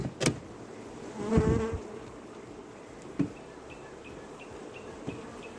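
A low, steady hum of honeybees buzzing around close by during a hive cut-out, with a louder buzz swelling briefly as one passes near, plus a few faint knocks.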